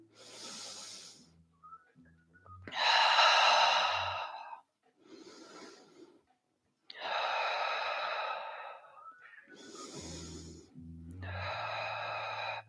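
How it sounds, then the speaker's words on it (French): Slow, deep breaths during a yoga practice session: long audible inhales and sighing exhales, some with a whistling, nasal quality, repeating in unhurried cycles with short pauses between, close and clear with no talking. "Restez ici, écoutez la respiration."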